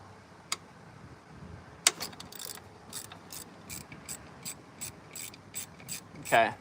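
A ratchet works a seized bolt loose on a 2010 Honda Element SC, opening with a couple of sharp metallic snaps and then a steady run of evenly spaced clicks, close and distinct against a quiet background.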